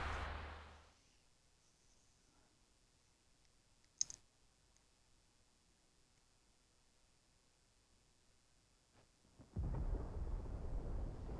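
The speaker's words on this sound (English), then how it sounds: "Sounds like thunder." Thunder in the video game Final Fantasy XVI: rumbling at the start fades into near silence, a single sharp crack cuts through midway, then a loud, sustained roar of thunder swells up and holds to the end.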